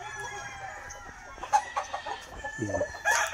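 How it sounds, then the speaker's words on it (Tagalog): Pure white Kelso gamefowl roosters with yellow legs at a gamefowl farm give a few short, close clucks and calls over quiet background, with brief bursts between pauses. "Mga pure white kelso."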